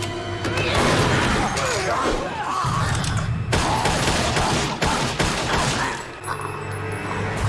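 Rapid gunfire from silver bullets in a Supernatural episode, loud and dense bursts of shots layered with impacts and scene noise, with voices faintly mixed underneath throughout.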